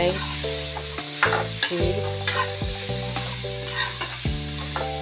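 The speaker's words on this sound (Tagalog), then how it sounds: "Mix muna natin. Mix guys." Mixed vegetables are stirred and sautéed in a frying pan. A constant sizzle runs under repeated scraping and clattering strokes of the utensil over tonal background music, and one short spoken word is heard.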